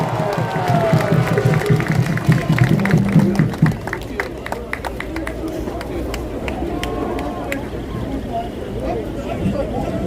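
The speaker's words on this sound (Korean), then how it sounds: "박수" A street protest crowd in Jonggak, Seoul, breaks into applause mixed with shouts and chatter. The clapping is loud at first, then thins into scattered claps under a murmur of voices.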